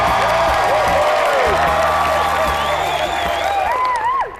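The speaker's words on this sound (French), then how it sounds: "Veuillez applaudir la mouche du vinaigre mâle." Lively audience applause and cheering fill the room, loud and continuous with whoops and voices swirling through it, tapering slightly at the end.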